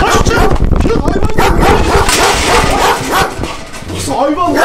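A dog barks and yelps close by during a tense outdoor encounter in Kaş, Turkey, with loud, frantic shouting from several men over the barks throughout.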